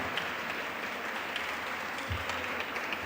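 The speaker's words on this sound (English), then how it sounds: "Give him a good round of applause, all of you." An audience at an entrepreneurship program session gives a short, steady round of applause, moderately loud and continuous, with no voices over it.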